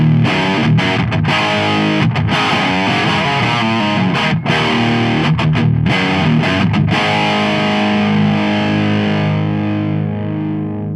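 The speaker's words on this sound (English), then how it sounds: "With the gain and the sensitivity right up, it's a very harmonically rich and full sounding distortion." Electric guitar played through a Marshall JCM800 distortion pedal with gain and sensitivity turned fully up, giving a thick, harmonically rich, saturated tone; loud chords and riffs with short breaks, ringing out at the end, no talking.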